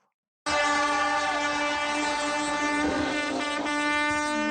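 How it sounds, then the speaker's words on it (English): Rally car air horns blare in one loud, sustained, multi-tone blast that starts abruptly and holds steady for about four seconds, alone without talk. "The air horns."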